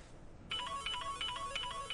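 A mobile phone ringtone starts after a brief quiet moment and keeps ringing in a repeating electronic melody, fairly loud and close, with no voices over it, in a romance film scene.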